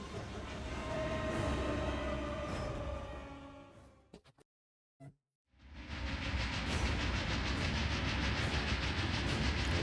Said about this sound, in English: Those trains are rocking back and forth.